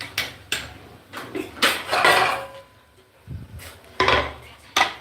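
A plate clatters as it is picked up and handled in a home kitchen while sabudana khichdi is served, with several sharp ceramic knocks and scrapes in an uneven rhythm, close by.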